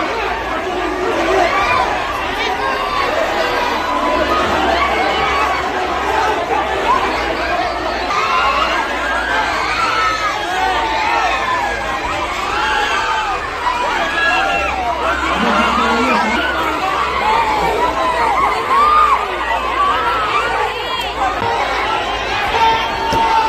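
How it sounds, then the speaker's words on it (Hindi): A large crowd of neighbours gathers at a scene after police arrive, making a dense, loud, continuous hubbub of overlapping voices with scattered shouts and murmurs. "पुलिस को देखकर भीड़ बढ़ गई और लोगों ने गुस्सा जाहिर किया।"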